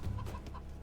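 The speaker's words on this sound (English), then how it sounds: "so we got some forward chickens for Starko," Chickens clucking in a real-time strategy game match between AI players: several short, faint clucks spaced across a brief moment, with no talking.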